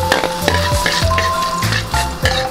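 Garlic sautéing in hot cooking oil in a pan, a loud, continuous sizzle with periodic scraping stirs and clinks of a utensil.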